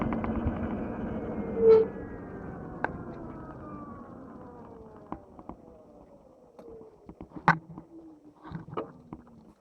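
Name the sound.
train on railway tracks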